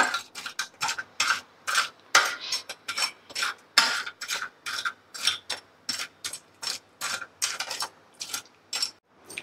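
A spoon stirs double ka meeta in a pan, making rapid, rhythmic scraping and clicking strokes, close and fairly loud, with no voices.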